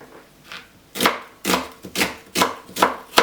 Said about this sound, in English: I'm just going to chop all the onions